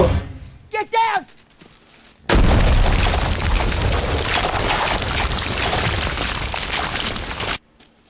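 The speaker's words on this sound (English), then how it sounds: "they're lucky that they were pretty much unaffected by that bomb that was 6 inches from them" A bomb blast in a The Walking Dead episode: after brief shouting, a sudden huge boom erupts and roars with debris for about five seconds before cutting off abruptly.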